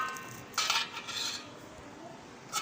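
Tomato, onion, small potato pieces and chickpeas being mixed in a bowl for chaat, giving soft clinks and scrapes of a utensil against the dish in a few short bursts, fairly quiet with no talking.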